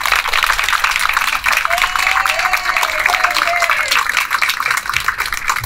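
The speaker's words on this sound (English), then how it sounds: "let's give her a giant round of applause" Audience applause at an outdoor mural unveiling for a community partnership, sustained loud clapping from a crowd with a voice audible partway through.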